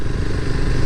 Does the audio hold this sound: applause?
no